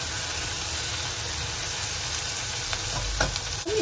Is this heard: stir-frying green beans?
yes